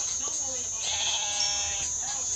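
A Minecraft-style game sheep bleats in a short wavering cry, heard over a high steady game tone and a busy background.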